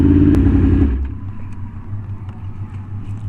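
A Yamaha R1M sportbike pulls up to a gas station: a loud, close engine rumble drops suddenly to a lower, steady idle burble with a little wind noise.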